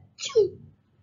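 A voice imitates a sneeze in a children's read-aloud story about germs: one short, close "achoo" with a sharp breathy onset and a louder voiced burst, alone and then fading.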